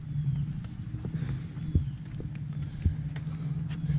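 Horses at a show walking on a hard surface, giving a steady run of soft hoof clip-clops with a couple of sharper knocks, close by and with little talk.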